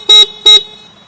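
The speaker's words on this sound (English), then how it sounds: "this is the horn which sounds like this." Horn of a Honda Shine 100 motorcycle sounding two short, loud, close toots in quick succession with a brief gap between them, alone with no talk.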